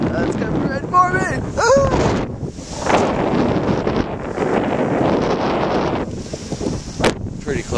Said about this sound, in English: Really, really windy today.